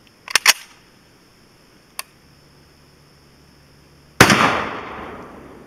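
Rifle shots from a .223 or 7.62x39 rifle firing FMJ rounds at a cast aluminum target: two sharp cracks close together, a faint distant pop a moment later, then a loud close shot with a long decaying outdoor echo.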